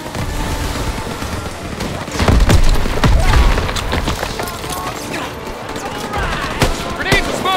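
Grenade blasts and gunfire in a Call of Duty WW2 battle, a heavy booming explosion mid-clip among scattered rifle shots and rumbling battlefield noise, loud and dense, with shouted voices over it.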